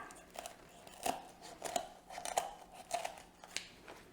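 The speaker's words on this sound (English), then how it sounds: "then cut with your shears right along" Kitchen shears crunch through a raw chicken's spine bone in about six sharp, separate snips, each a crisp crack spaced roughly half a second apart, close and clear.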